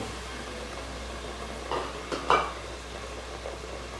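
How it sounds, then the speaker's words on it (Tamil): Onion with ginger and garlic paste sautéing in hot oil for a chicken curry, giving a soft steady sizzle with a few brief stirring scrapes in the middle. "எல்லாம் போட்டு வெந்துக்கிட்டு இருக்கு. எண்ணெயில் வதங்குது பாருங்கள்."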